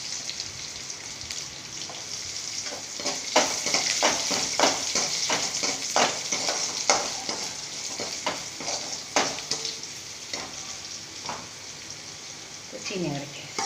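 Food sizzles and crackles steadily in a home kitchen pan as asafoetida powder goes in, with irregular scraping stir strokes throughout and a brief clink near the end.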